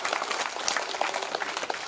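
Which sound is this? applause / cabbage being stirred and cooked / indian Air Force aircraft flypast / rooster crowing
applause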